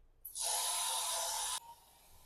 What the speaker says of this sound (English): I need to spray this little spot in the bathroom, actually.